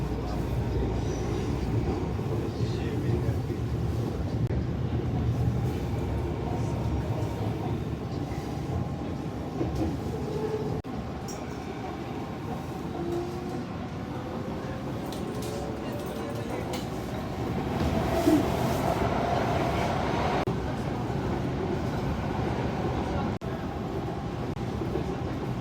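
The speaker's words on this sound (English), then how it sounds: "This train is for YVR Airport." A Canada Line train rides toward YVR Airport, a steady low rumble of wheels and carriage noise filling the whole stretch, with a swell of louder rolling and faint squeals partway through and an announcement voice in the background.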